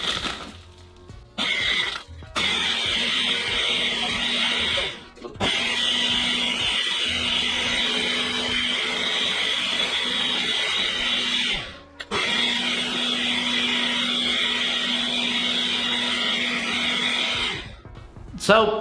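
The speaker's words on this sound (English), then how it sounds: "Let's get it into the blender, all locked in. We'll get it onto a max blend." Blender on its max setting crushing ice for a Man City slush drink, a loud steady whirring roar with short stops and restarts, alone without talk.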